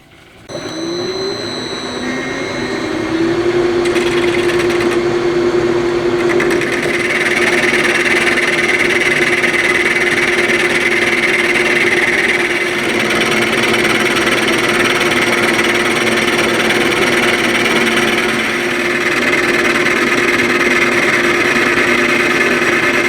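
A metal lathe facing a rocker arm for a Honda Monkey engine being converted to four cylinders, giving a steady, close mechanical whir and cutting hum that rises after a few seconds and holds continuously throughout.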